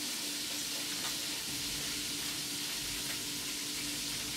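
Chicken frying in hot oil until crispy gives a steady, dense sizzle that holds level throughout, close by and with no voices.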